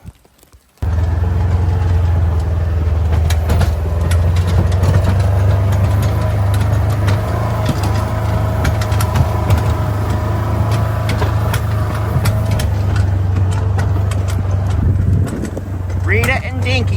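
A vehicle engine rumbles loud and steady while pasture seed is spread from it, a constant low drone starting abruptly after a moment and easing near the end, with people talking over it.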